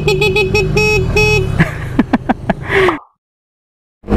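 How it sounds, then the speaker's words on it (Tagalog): Horn of a Euro Motor Samurai 155i V2 scooter sounding close and loud in several short honks followed by a longer blast, then cutting to silence. "And this is our horn."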